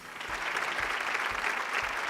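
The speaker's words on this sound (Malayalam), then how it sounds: "നല്ലൊരു കയ്യടി." Applause from a studio audience on a Malayalam TV game show, a steady wash of clapping hands at moderate level, sustained without talk over it.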